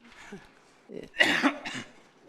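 A man coughs and clears his throat during a parliamentary audit hearing, one faint throat sound followed by a couple of harsher, louder coughs close to the microphone.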